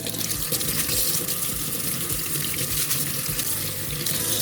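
A stiff brush scrubs the blades of a plant-based soy milk maker under running tap water in a sink, a steady hiss of flowing water with faint scraping throughout, no talking.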